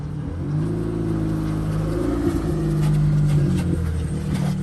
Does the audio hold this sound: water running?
no